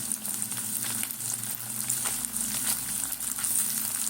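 Paneer pieces shallow-frying in hot oil give a steady, close crackling sizzle with occasional louder pops and a low background hum, continuous and without speech.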